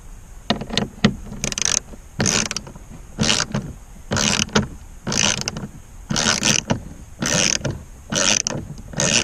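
A ratchet fitted with a 10mm socket removes a bolt from a Dodge Dart door panel, making close, loud bursts of rapid clicking. Several turns are repeated with short pauses between them.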